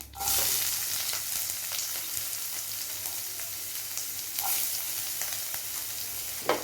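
Chopped onion frying in hot oil with popped mustard seeds and fenugreek for a bitter gourd thokku, a steady close sizzle with a few stirring scrapes and no talking.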